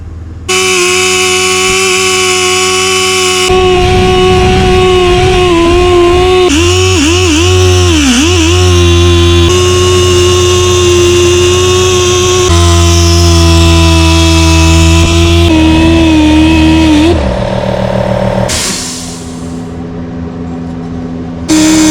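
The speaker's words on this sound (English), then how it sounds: "let's see what this looks like after I keep buffing on it and maybe get it cleaned up" A power buffer polishes chrome with Mag Polish, its motor giving a loud, steady tonal whine that dips and shifts in pitch as it bears on the metal, then drops away near the end.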